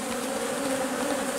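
Honeybees at apiary hives with supers added, as acacia bloom begins, buzz in a steady, dense drone, close and continuous with no voices.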